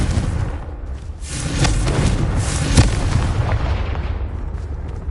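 Confringo blasting spell explosions in the Hogwarts Legacy game: a run of loud, booming bursts with sharp cracks near the middle, trailing into continuous rumbling blast noise.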